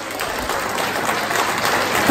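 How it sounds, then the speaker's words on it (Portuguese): An audience claps at an anniversary celebration of a local association in Agualva de Cima, a dense steady round of applause from a room full of people, close and fairly loud, lifting slightly toward the end. "Não é só essas palmas"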